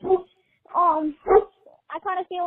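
A dog barks in the background, a series of short yips and barks in uneven bursts mixed in with nearby human voices.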